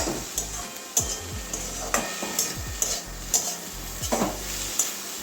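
Kolmi greens frying in a pan while being stirred, a steady close sizzle broken by repeated metallic scrapes and clinks of a utensil against the pan at an uneven rhythm.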